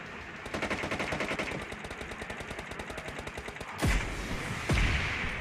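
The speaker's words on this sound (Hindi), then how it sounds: "एक आरपीजी दगाते बंदों के मुंह पे" In the PUBG video game, a long run of rapid automatic gunfire gives way to two heavy, booming RPG blasts fired at enemies, each followed by a trailing rumble, with no talking.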